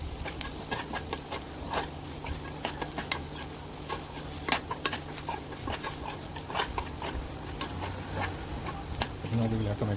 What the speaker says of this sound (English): We'll just roast this masala for a few seconds